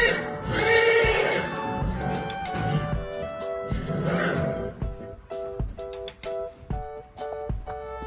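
A young horse whinnies loudly and repeatedly close by, with long shrill neighs and shorter nickering calls, some clattering and faint voices in the background.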